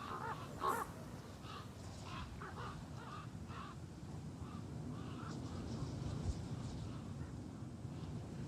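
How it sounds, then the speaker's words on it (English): Crows caw repeatedly across a mountain valley in lynx country, with harsh calls echoing at a distance over steady wind noise. "with the caws of the crows ringing through these valleys"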